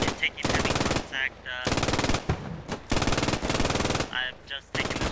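Machine gun crossfire in a World War II video game: long sustained bursts of rapid automatic fire that repeat in heavy volleys, loud and close, with brief gaps between them.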